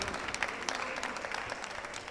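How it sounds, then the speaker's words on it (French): An audience applauds a placed entry at a health innovations awards event, brisk dense clapping from a crowd over a couple of seconds, moderately soft and heard alone without speech. "on peut l'applaudir"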